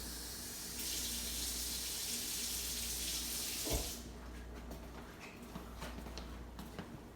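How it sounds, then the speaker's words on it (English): A cup of water poured into a pot of shrimp and crawfish étouffée with diced tomatoes over a roux, a steady hissing splash for about three seconds that then gives way to quieter stirring and kitchen clatter. "Just put in 1 cup of water."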